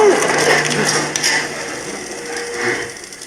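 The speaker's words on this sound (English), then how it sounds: "it seems that your great big expensive machine doesn't work" Alan Turing's large code-breaking machine running, with a dense, continuous mechanical clatter of ratcheting gears and clicks, loud and close.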